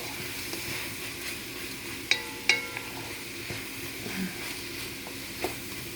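Shrimp frying in a pan for soy sauce fried noodles, a steady close sizzle broken by a few sharp utensil clinks and stirring scrapes, with no talking.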